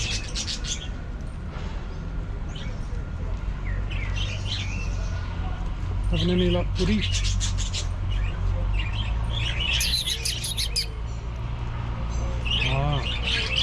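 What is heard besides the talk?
budgerigars chirping in an aviary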